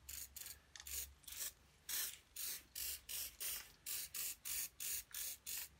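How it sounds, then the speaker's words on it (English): A hand spray bottle mists water onto a watercolour painting in a quick run of about a dozen short, close hissing bursts, irregular at first and then settling into an even, regular rhythm. "So I'm just going to spray out the bottom down here"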